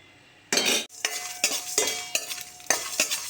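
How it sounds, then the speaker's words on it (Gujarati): Whole cumin, fenugreek, cardamom, pepper and cloves dry-roast in a pan for lemon chutney, heard as close bursts of rattling and scraping from repeated stirring, with a faint sizzle between strokes and no voices. "હવે મસાલા લીધા છે: જીરું, મેથી, એલાયચી, મરી અને લવિંગ. હવે તેને શેકી દઈશું."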